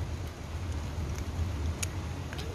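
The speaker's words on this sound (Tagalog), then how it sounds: "Uy, ulan, nakisama ka naman." Light rain falling steadily outdoors in Fort Canning Park, Singapore, a soft continuous hiss with a few faint drips and a low rumble beneath, no voices.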